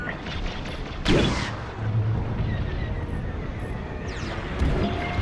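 Rapid blaster fire in the Star Wars: Squadrons space combat game, bursts of zapping shots and impacts over a steady engine roar, with a sharp burst near the start and another near the end.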